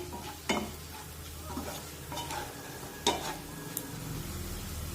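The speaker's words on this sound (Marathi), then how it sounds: "मसाले सुद्धा तेलामध्ये चांगले परतून घ्यायचे" Spices sizzle steadily in hot oil for pav bhaji while a spoon scrapes and stirs the pan, with a few sharp metallic clinks against the wok.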